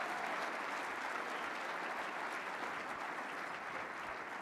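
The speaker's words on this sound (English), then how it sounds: "how about a round of applause for Buff's great Chad Brown joining us today" Audience at a university football recruiting luncheon gives a steady round of applause, a dense even wash of clapping heard from some distance and fairly quiet throughout.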